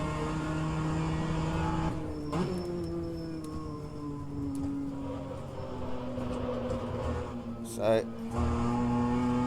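A BMW M2 CS engine revs hard at full throttle in rFactor 2, its steady, loud harmonic drone rising and falling as it accelerates, with a brief tire scuff and someone talking over it.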